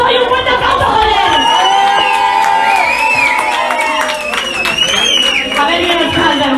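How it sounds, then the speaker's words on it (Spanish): A crowd at a rap battle event in Bilbao cheers, shouts and claps loudly all at once, with high whoops and yelling voices riding over steady applause throughout. "¡Un fuerte aplauso, joder!"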